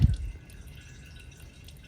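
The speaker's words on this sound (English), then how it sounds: "We're just gonna let that drip until we get down to" Fluid drips during a full fluid service on a 2010 Nissan GT-R, with one distinct drip at the start followed by a faint, steady trickle in a quiet garage.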